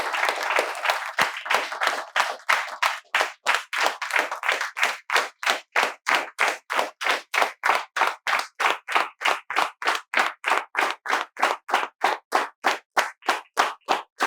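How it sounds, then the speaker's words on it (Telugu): Students in a spoken English class clap together in welcome, a dense burst of applause that settles into a steady, loud unison rhythm of sharp claps that continues to the end. "మేమందరం మీకు చప్పట్లతో స్వాగతాన్ని తెలియజేస్తున్నాం"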